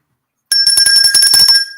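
A livestream super chat alert chimes, a bright electronic ringtone-like bell ringing rapidly and loudly for about a second after silence, with no talk over it.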